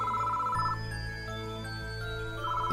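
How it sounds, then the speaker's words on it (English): A public phone box rings in the horror video game Death Mark, with a trilling electronic ring at the start and again at the end, set over a low, steady droning background. "The phone suddenly started ringing."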